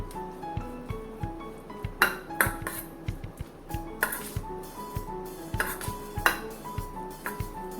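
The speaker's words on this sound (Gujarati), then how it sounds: "હવે આપણે મિક્સ કરી લઈએ" A spoon stirs cucumber raita in a bowl, producing a steady run of bright clinks and taps against the side, some louder than others, close up with no talk.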